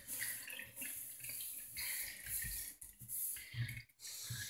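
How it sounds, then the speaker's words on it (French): Tap water runs steadily into a kitchen sink as it is rinsed clean after scrubbing with a clay cleaning stone, a continuous broadband splashing and hiss with brief dips in flow, close by and with no talk. "Et j'y vais à grande eau."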